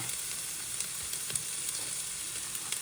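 Ingredients for fried rice frying in a hot pan give off a steady, dense sizzle with faint crackles throughout, close and fairly loud, with no talking.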